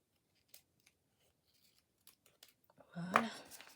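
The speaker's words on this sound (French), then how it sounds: "Je vais prendre mes ciseaux." Scissors snip a few times, then cut through paper in a louder, longer rustling burst near the end; close by, no talking.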